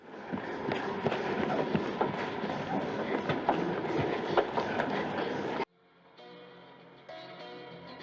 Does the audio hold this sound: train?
yes